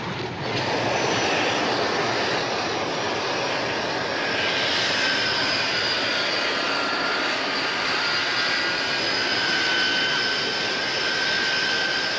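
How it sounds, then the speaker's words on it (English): A fixed-wing airplane takes off with a steady, loud jet-engine roar and a thin rising whine. It holds strong and even for several seconds, with no voices. "Oh, my luggage is on that plane."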